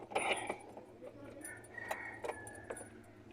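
Car keys for a Chevrolet Matiz jingle and clink in a few light, scattered metallic bursts, close by, with faint talk and room noise underneath.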